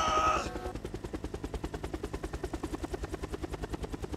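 Helicopter rotor from Call of Duty Black Ops Cold War thumps in a steady rapid chop after a brief burst of gunfire at the start, loud and close, with no talk over it.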